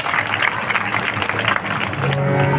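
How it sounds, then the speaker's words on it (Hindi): An audience claps steadily at a Krishna Leela stage performance, a dense, fairly loud patter that carries on throughout, with a steady low tone rising underneath near the end. "एक बार तालियों की झुमझुम बहुत होनी चाहिए"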